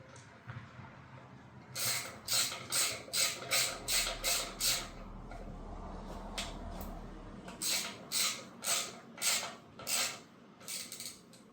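A ratchet wrench tightening bolts on a 1970 Ford Torino during an engine swap, a run of quick, evenly spaced clicking strokes in two bursts with short pauses between, fairly close and clear with no talking.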